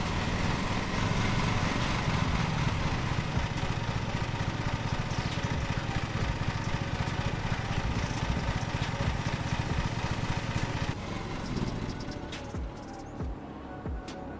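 Lawn mower engine in the Lawn Mowing Simulator video game, running steadily and loud with a constant droning hum throughout, easing slightly lower near the end.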